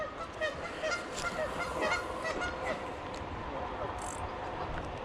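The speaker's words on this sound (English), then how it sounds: "Looking at the geese." Geese honking by a creek, repeated calls through the first half, some close and loud, others scattered and fainter, with a steady outdoor background.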